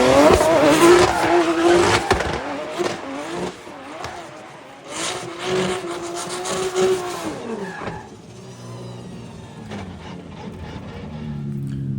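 A drift car slides around a course with loud, wavering tire squeal over a revving engine, fading toward the end as the run moves away.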